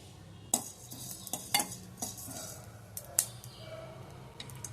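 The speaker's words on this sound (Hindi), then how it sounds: "अब इसमें डालेंगे हम धनिया, इसको भी हम थोड़ा सा भून लेंगे।" A spoon stirs and scrapes coriander roasting in a pan, with several sharp clinks at an uneven rhythm, over a faint background sizzle.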